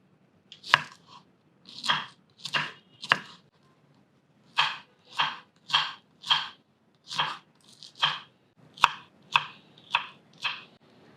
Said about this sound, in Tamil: இதை வந்து அப்படியே நம்ம வந்து கட் பண்ணிக்கலாம்.